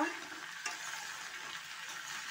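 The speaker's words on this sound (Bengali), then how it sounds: "এটাকে একটু ভালো করে কষাবো।" Tomato paste and ginger frying in a pan, stirred, with a steady hiss of sizzling oil and a soft scrape around two-thirds of the way through.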